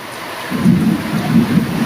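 Heavy evening rain pours steadily while a deep rumble of thunder rolls in after a moment, swelling and fading in waves, loud and near.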